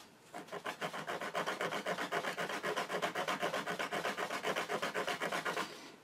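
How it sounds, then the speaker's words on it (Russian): A hand file rasps back and forth across a sewing machine shuttle part to remove a groove, a steady close-up series of about thirty rhythmic scraping strokes at an even pace. "вот таким вот манером вот так вот пиляем"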